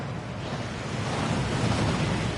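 A waterfall roars in Hogwarts Legacy, a dense, steady rushing wash of falling water that fills the sound without letting up.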